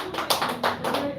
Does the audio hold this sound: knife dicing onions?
no